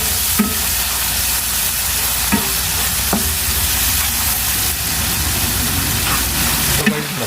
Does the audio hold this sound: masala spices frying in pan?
yes